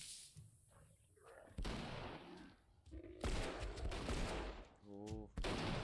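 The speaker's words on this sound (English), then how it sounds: "I'm running out of ammo in the rifle." Rifle fire from The Last of Us Remastered rings out in sharp, loud bursts amid chaotic combat noise, with several close shots and a harsh ringing tail near the end.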